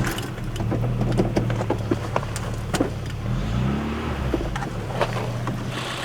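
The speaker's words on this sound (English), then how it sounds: "We're going to hit a starter test now." A car engine being cranked by its starter during a battery starter test, with a low battery at about 11.8 volts, turning over and catching into a steady idle within a few seconds, close and loud.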